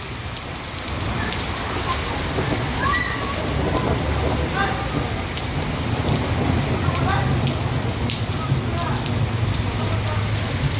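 Heavy summer rain falls over an outdoor physical education lesson, a constant close hiss of drops on surfaces with faint scattered voices beneath it, holding steady and slightly swelling across the stretch.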